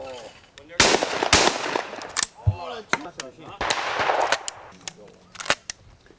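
Shotguns fire at a sporting clays shooting tournament as several sharp, loud cracks spread across the clip, mixed with people talking and calling out nearby.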